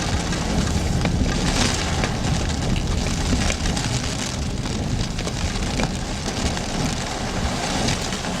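Heavy rain pours steadily during violent thunderstorms in Germany, a dense, loud, unbroken hiss of drops hitting surfaces with faint rumbles beneath.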